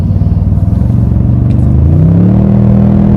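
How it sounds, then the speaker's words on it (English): Loud, close engine rumble building as a 2022 Toyota Tundra TRD Pro hybrid V6 pickup accelerates, pitch rising steadily in a deep, throaty growl. "It sounds like a V8. It's not a V6"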